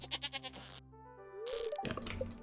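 Goats bleating on a farm in Stardew Valley: several quick, close cartoonish bleats in a row, a short pause, then a rising bleat followed by another burst of busy bleats, with no talk over them.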